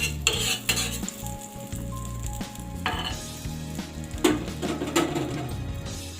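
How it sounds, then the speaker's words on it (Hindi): Butter sizzling on a hot tawa griddle for pav bhaji, a steady loud crackle with clinks of a metal spatula and utensils scraping the pan throughout. "तवा गर्म हो गया दोस्तों, मैं यहाँ पर थोड़ा सा बटर ऐड कर रही हूँ।"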